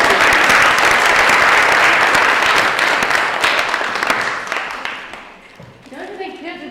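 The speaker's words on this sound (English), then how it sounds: "Would you please give applause to everyone?" An audience applauds at an educational presentation on creativity and student skills. The clapping is loud and sustained, then fades over the last seconds as a few voices come through.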